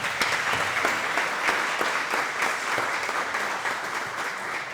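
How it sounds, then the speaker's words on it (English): Audience applause at a farm-to-school institute gathering: sustained, dense clapping from a room full of people, holding steady for several seconds with no talk over it. "one more big round of applause for everyone here and just all the great work"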